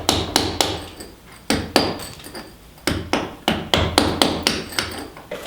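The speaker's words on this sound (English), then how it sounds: "It's the 5/8 cold chisel, but it seems to take up this stuff pretty easy." A hammer strikes a Dasco Pro 5/8 cold chisel cutting into material during a tiny house compost toilet frame build, giving sharp metallic blows in irregular bursts, some rapid pairs and runs, close and loud.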